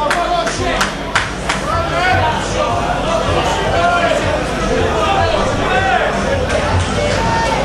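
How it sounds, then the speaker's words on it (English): Boxing fight night crowd in a hall, a dense hubbub of cheering voices and scattered claps that runs throughout, with a commentator talking over it. "the crowd really enjoying themselves"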